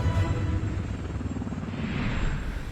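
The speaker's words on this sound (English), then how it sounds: "The Apache was their most advanced, most capable attack helicopter" An AH-64 Apache attack helicopter in operation gives a loud, steady rotor-and-engine rumble that fills the whole stretch with a dense, pulsing low roar.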